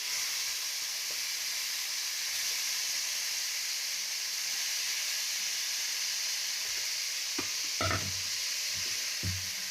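Mutton pieces sizzle in hot oil with a constant bright hiss at moderate volume, while near the end a few knocks and scrapes of stirring sound against the pan.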